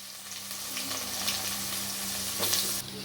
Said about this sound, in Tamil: 1 டேபிள் ஸ்பூன் நெய், பட்டை கிராம்பு ஏலக்காய் போடுங்க. வெட்டின வெங்காயத்தை போடணும்.